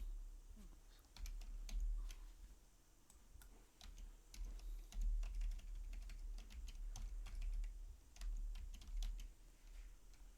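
Someone types an IP address on a computer keyboard, quiet irregular key clicks in short bursts with pauses, close and faint over low background hum, no talking.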